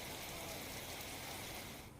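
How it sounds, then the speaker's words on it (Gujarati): Heavy, steady monsoon rain pours down in Junagadh, Gujarat, in a dense, continuous hiss with no breaks, fairly loud and close throughout. "અંધાધાર વરસાદ વરસી રહ્યો છે"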